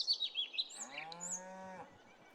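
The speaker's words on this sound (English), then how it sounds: "You have cows just lounging around." Cattle in a stockyard in the farming game Farming Simulator 22 let out a single drawn-out moo, fairly faint and close, with a few bird-like chirps at the start and no talking.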